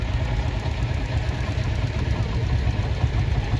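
A 1947 Field Marshall tractor's single-cylinder engine running steadily at a rally, a close, continuous low chugging throb with no break.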